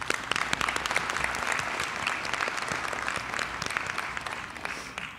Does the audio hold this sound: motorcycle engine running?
no